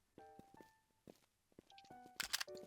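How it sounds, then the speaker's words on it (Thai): A handful of soft game footsteps land unevenly among short electronic beeps and tones, with a busier burst of clatter near the end. "เสียงตีนใช่ไหมเพื่อน บอกกูที"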